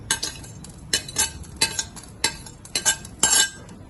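Dry vermicelli roasted in a pan without ghee, a spoon scraping and clinking against the metal in quick bursts of stirring, close up with no talk.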